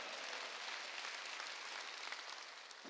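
A church congregation claps together during a Wednesday worship service, a soft, steady wash of applause heard from some distance, with a sharper knock near the end.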